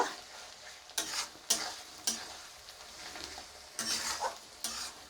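Whole garlic cloves, crushed, fry in a pan, a soft background sizzle punctuated by several louder bursts of stirring and spatula scraping; quiet and close, with no talking.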